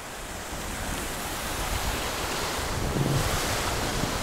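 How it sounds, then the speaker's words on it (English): Creek water flowing beside a mountain bike trail in Lackawanna State Park makes a steady, broad rushing wash, fairly loud and continuous, mixed with some wind noise. "Oh, cool, creek."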